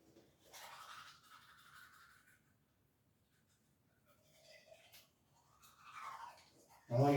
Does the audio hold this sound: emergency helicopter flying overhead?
no